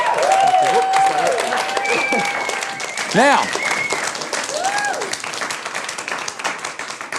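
A studio audience on a television variety show gives a round of applause, the clapping running under a presenter's voice and some musical tones.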